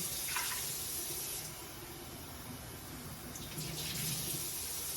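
Tap water pours steadily into a measuring cup in a kitchen, a close, continuous gushing hiss that changes slightly in tone as the cup fills, with no speech over it.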